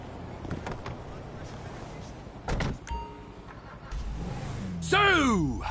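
Car sounds from a PS4 video game: a thud like a door closing, followed by a rising engine start or rev near the end, with game dialogue playing over the scene.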